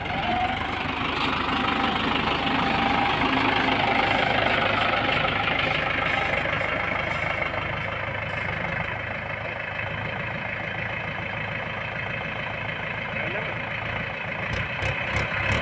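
A Mahindra 575 DI XP tractor engine pulls a number 10 tiller through a field in first gear, a continuous, loud diesel chugging and rumble with knocking texture throughout, and a voice speaking over it.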